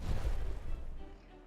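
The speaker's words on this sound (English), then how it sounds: "That was slightly too large of an explosion" A dynamite blast in a video game: a deep rumbling boom heard up close, fading away into a low tail of debris and echo, with no one speaking.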